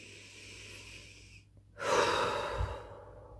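A slow, deep breath is heard close up: a soft, drawn-out inhale, a brief pause, then a long, breathy exhale, with no talking.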